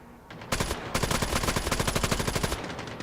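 Intense machine gun fire in an online shooter game, a dense rapid burst lasting about two seconds, loud and close after a short quiet lead-in.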